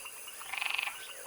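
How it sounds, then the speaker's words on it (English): An Amazon milk frog, a large arboreal rainforest frog of South America, gives a short burst of rapid pulsed croaks, fairly faint and heard alone over a low background hiss. "Amazon milk frog, Trachycephalus resinifictrix, is a sizable arboreal frog indigenous to the Amazon rainforest in South America."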